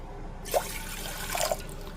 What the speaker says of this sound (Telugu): సేమియా గ్లాస్ తోటి టూ గ్లాసెస్ వాటర్ అయితే పోస్తున్నాను